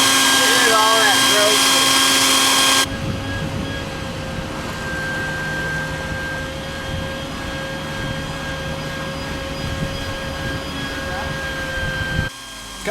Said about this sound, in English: So I always give a good vacuuming out.